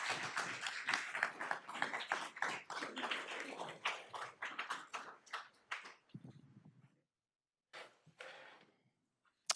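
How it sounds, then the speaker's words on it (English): A room at a regular school board meeting applauds its board members with a burst of clapping that thins to scattered claps, then a couple of last isolated claps after a pause. "Let's give our board members a round of applause, please."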